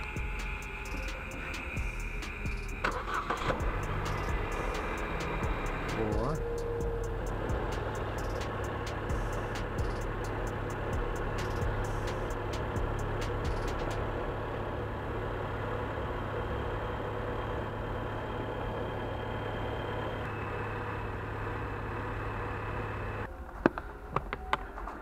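A car engine on an Astra J, Cruze or Captiva with a GM 6T30/6T40 automatic transmission runs at a steady, faint idle during an oil change. The drone changes early on, and a few clicks sound near the end.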